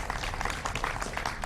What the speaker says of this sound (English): absolutely, clap for Cindy